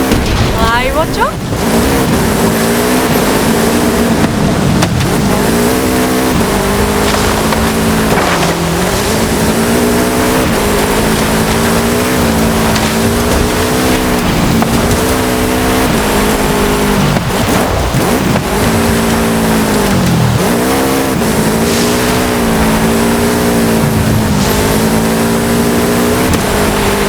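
Car engine driving in Forza Horizon 5, a loud continuous engine drone that rises and falls with revving and gear changes, under ongoing speech.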